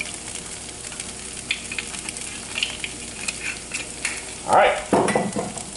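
Potatoes slow-cook in olive oil with a soft, steady sizzle, and a spoon stirs them now and then. Two louder scrapes land near the end, and someone says a brief word.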